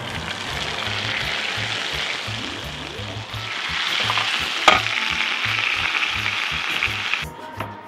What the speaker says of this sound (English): Fry the potatoes till they start colouring.